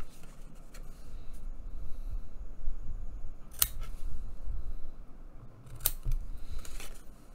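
Scissors trimming a mitered corner on paper for a small handmade art book: two or three quick, crisp snips stand out over a faint, soft rustling background, close and without talk.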